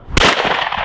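A Miroku MK70 shotgun fires a single loud, close report with a sharp crack and a broad ringing decay, no voices.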